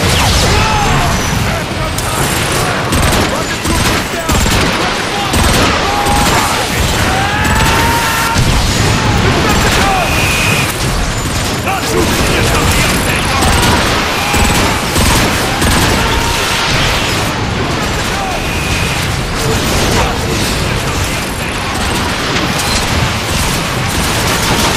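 A dense, loud barrage of gunfire and rocket explosions plays out in the robot shooter Transformers: Fall of Cybertron, with continuous rattling shots and booms packed together and game voices shouting over the combat.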